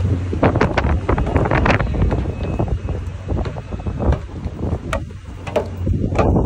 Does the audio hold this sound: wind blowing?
yes